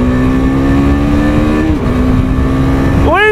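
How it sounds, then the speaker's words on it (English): A 2023 KTM RC 390 motorcycle pulls hard from 40 to 80, its engine whine climbing steadily, dipping briefly at a gear change, then rising again near the end, loud and close. "40 to 80 pull, 2023 KTM RC 390"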